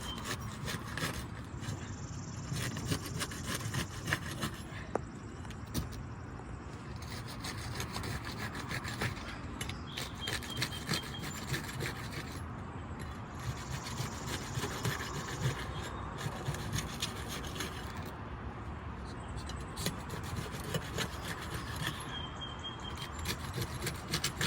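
Tar seal strips on roof shingles being pried and broken loose during a roof repair: continuous rough scraping, rasping and cracking, close and steady throughout, with no voices.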